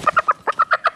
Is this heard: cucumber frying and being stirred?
no